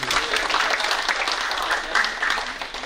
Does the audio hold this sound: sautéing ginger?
no